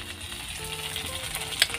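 Crab goes into a hot pan of sizzling oil, giving a steady close frying hiss with a small crackle near the end and no voices.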